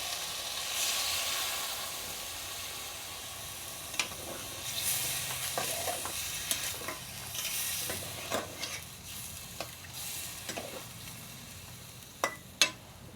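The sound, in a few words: fried chalta cooking with mustard paste and water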